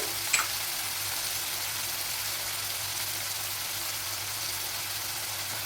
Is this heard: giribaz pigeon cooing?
no